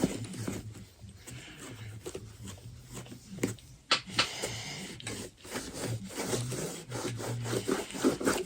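Cloth rubbing dubbing wax into a vegan Dr Martens leather-look shoe, a soft irregular scrubbing and brushing that comes in uneven strokes, close and fairly quiet.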